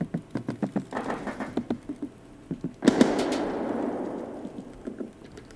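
A grenade blast in Escape from Tarkov, a sudden loud burst that decays into a long rumbling tail, preceded by a run of quick sharp taps.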